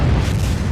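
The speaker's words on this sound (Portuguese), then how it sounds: "mas talvez a explosão de uma supernova." A deep, continuous rumbling boom from a sound effect for a star's supernova explosion fills the short stretch at steady loudness, with heavy low rumble and no voices.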